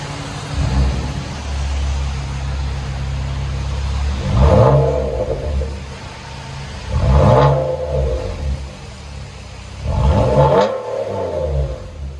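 A 2012 Nissan Maxima 3.5L V6 with dual exhaust and muffler delete revs hard three times in a row, each rise a loud raspy roar over a low rumbling idle, close by.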